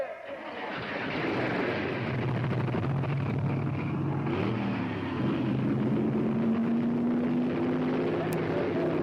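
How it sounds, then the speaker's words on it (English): NASCAR race car engines firing up at the start of a race, a loud, dense roar that bursts in under a second and holds as a steady rumble with rising engine tones. "Gentlemen, start your"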